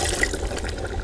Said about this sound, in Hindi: कद्दू जो है ना ये सही तरह भुन गया और नरम हो गया, अभी थोड़ा सा हम पानी डालेंगे